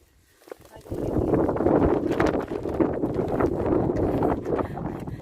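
Strong gusts buffet the microphone on a hike on Po Toi Island, Hong Kong, a roaring low rumble that rises suddenly after a quiet start and stays heavy throughout.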